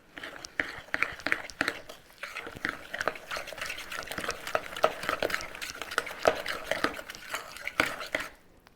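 Cookie dough being mixed with white sugar: a spoon or spatula scrapes and taps repeatedly against a bowl at close range, in an uneven rhythm of soft clinks and rubs, with no talking.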